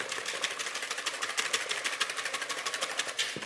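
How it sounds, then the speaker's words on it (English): Egg yolks and sugar whisked together in a bowl for a prune crème brûlée base: a rapid, steady run of light clicking strokes lasting throughout, fairly close and even in loudness, with no talking. "So, whisk it all together. You're only whisking to combine the sugar and the yolks."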